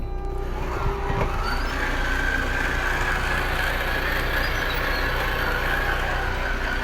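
A Thor Four Winds 31F Class C motorhome slide-out motor runs with a steady mechanical hum and low rumble throughout, a faint whine rising slightly in pitch early on, continuous and moderately loud.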